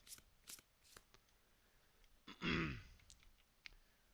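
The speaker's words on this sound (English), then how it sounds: "And the rest of these get flipped and shuffled." Game cards for the Kingdom Death board game are flipped and shuffled in three quick riffle bursts, followed by a louder, longer riffle and a couple of faint taps, close and quiet.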